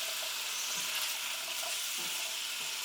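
Frozen garlic dropped into a hot pan sizzles with a steady, quiet frying hiss, with faint stirring taps and scrapes now and then, close up and no talking.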